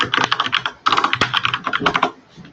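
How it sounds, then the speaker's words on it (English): Rapid, loud, close typing on a computer keyboard, dense clusters of key clicks in two bursts with a brief pause between, no voices over it. "Everyone can hear you typing."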